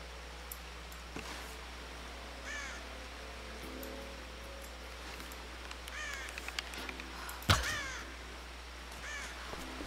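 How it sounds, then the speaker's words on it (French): A crow caws several times in the Tomb Raider (2013) video game, harsh calls spaced across a quiet, low outdoor ambience, with one sharp louder impact partway through. "Tiens, un oiseau."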